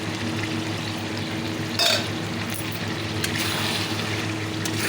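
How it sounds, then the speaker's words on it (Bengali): Fish spice paste frying in a pan gives a steady, close hiss that holds evenly throughout, with a brief louder burst partway through, over a low continuous background hum. "মাছের মশলাটা কষিয়ে নিচ্ছি"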